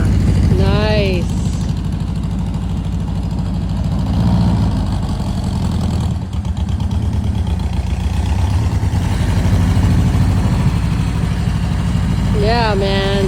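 A 1934 Frazer Nash Roadster idles steadily up close, a low, even engine rumble running throughout, with people talking over it.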